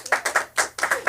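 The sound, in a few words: applause for producer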